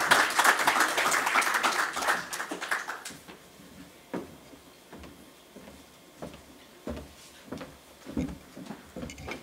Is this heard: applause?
yes